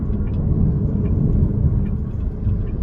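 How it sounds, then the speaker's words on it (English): An MG Windsor EV accelerating to overtake on the road: a steady low rumble of tyres and wind inside the cabin, even and continuous with no engine roar. "I'm going to use a little acceleration to overtake"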